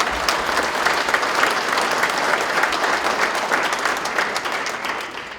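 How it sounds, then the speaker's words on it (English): A crowd at a school athletics hall of fame induction ceremony breaks into sustained, fairly loud applause, a dense even patter of many hands clapping for several seconds. "Let's give Annette a round of applause."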